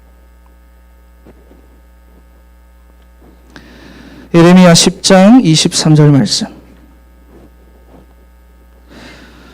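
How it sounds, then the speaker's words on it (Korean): An air conditioner in a church youth gathering room gives off a low, steady hum throughout, faint but constant beneath someone speaking Korean in the middle. "에어컨이 켜져 있나?"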